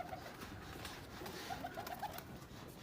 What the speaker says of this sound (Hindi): ये मेरा बगल पोटा कबूतर है